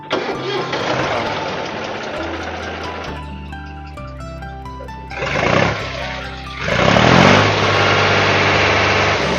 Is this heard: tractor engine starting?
yes